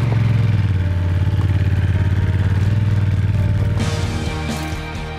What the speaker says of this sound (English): open the throttle to smoothly clear the corner